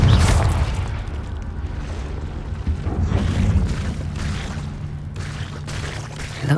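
A Confringo fire spell from Hogwarts Legacy bursts with a deep booming blast inside a cave, its low rumble lingering steadily under ambient game sound with no talking.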